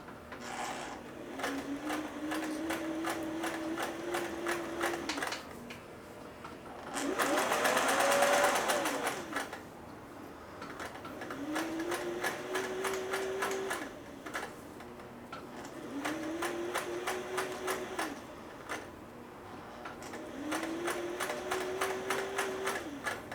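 A Singer 401A sewing machine runs in repeated bursts, a smooth, fairly quiet motor whir with rising pitch at each start and steady needle ticking, pausing briefly between runs.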